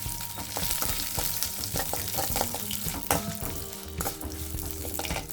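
Urad dal fries in hot oil in a pan with dense crackling sizzle and scattered sharp pops, steady and close throughout with occasional stirring scrapes.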